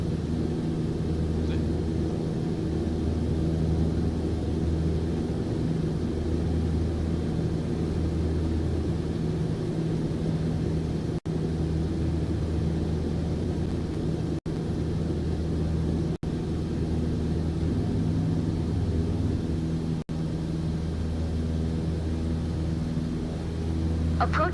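Steady piston engine drone of a Cessna 152 in Microsoft Flight Simulator 2024, a continuous low hum with even harmonics holding unchanged throughout, with no voices over it.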